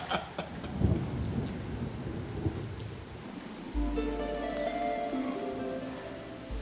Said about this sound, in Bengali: যা বৃষ্টি শুরু হয়েছে,